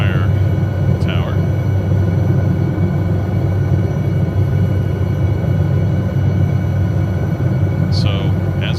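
A video-game SA 315B Lama helicopter flies with a steady, loud engine drone and low rotor rumble filling the whole stretch, unbroken, with faint chirps near the start and end.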